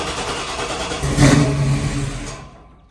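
A Ford Bronco engine cold-starts and roars with a throaty rumble through a custom exhaust with a merge collector, then settles and fades toward the end.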